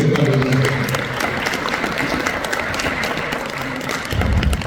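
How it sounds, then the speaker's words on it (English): A crowd at a ministry graduation ceremony gives a sustained round of applause, dense and fairly loud throughout, with some low thumps and rumble near the end. "Let's again have a round of applause for End Time Harvest Ministries"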